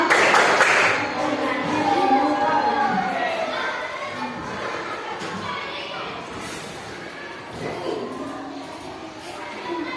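Children in a primary school classroom clapping through a rhythmic class routine, scattered claps and taps in a lively room with a teacher and pupils talking over them, the clapping loose rather than crisp.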